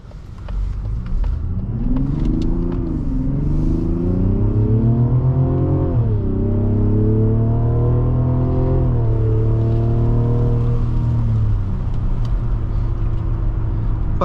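A 2024 Mazda CX-90 SUV with its base 280-horsepower turbocharged inline-6 accelerating, the engine hum climbing through rising gear pulls with a shift partway, loud and steady from inside the cabin.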